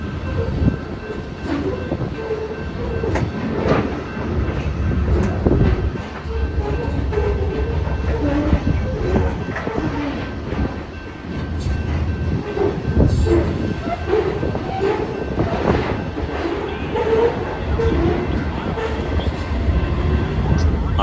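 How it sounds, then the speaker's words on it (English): Freight train rolling past a grade crossing in New Mexico, a loud continuous rumble of wheels and cars with metallic squeals and clicking joints, a steady high horn-like tone, and someone talking over it now and then. "This also marks my first train caught in the state of New Mexico."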